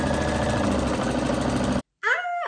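A sewing machine stitching a lining seam runs with a rapid mechanical whir and needle chatter close by, then stops abruptly; a short voice follows after a pause.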